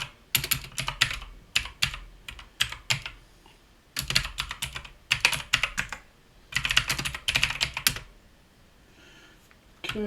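Close, crisp keystrokes on a computer keyboard as commands are typed on an Ubuntu machine, in quick bursts of clattering taps with short pauses between them, alone and without talk.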